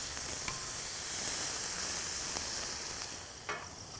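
Steaks sizzle steadily on a fireside grill as they are flipped, a continuous bright frying hiss with a few soft clicks and taps of turning, moderately close and without talk.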